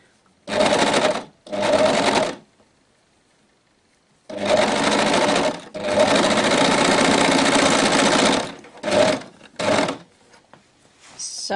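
An overlock sewing machine stitching a baby bodysuit, running in loud, close bursts of steady rapid whirring and stitching, separated by short pauses and one longer stop.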